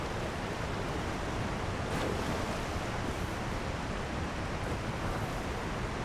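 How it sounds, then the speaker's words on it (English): Steady broadband rush of a waterfall in the video game Elden Ring, a constant roaring wash of falling water that holds an even level throughout with no speech over it. "We'll go through the waterfall here."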